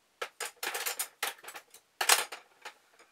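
Metal kitchen tongs clinking and clattering as they are handled in a small RV kitchen, a quick run of light close metallic taps and jingles, quiet and alone.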